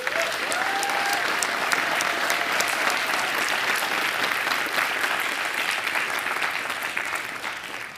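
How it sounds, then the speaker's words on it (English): A large conference audience at a JavaScript event in Seattle breaks into loud, steady applause that fills the room evenly, with a brief whistle or cheer near the start and no talking over it. "So please give them a huge round of applause."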